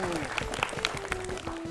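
Applause from a group of children or audience on an educational fun-learning show, a brief clatter of clapping with a faint voice and a sustained tone underneath.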